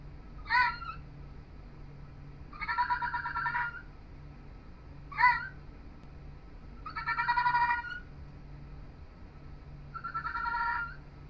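A desert fennec fox giving unusual calls, alternating short sharp yelps with longer wavering chittering cries, about five calls spread out over several seconds, fairly close in a quiet room.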